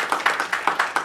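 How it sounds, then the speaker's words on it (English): Light rhythmic clapping from a panel audience at a newsroom data discussion, a handful of evenly spaced claps that sound thin and close rather than a full roaring ovation. "A round of applause for that, I think."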